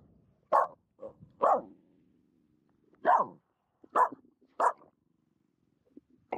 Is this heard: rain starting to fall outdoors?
no